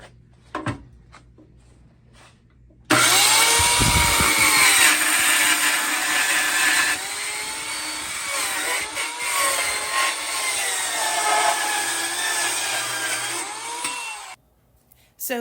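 A power saw trims wooden 2x4 boards to an even length for a console table, a loud continuous whining cut running about eleven seconds close up, with brief quiet before and after and no talking.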